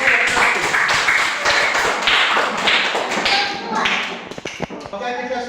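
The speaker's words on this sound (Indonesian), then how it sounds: "Kita berikan tepuk tangan untuk kelompok satu" A classroom audience applauds group one with loud, dense clapping that carries on for several seconds, then thins out into scattered claps near the end.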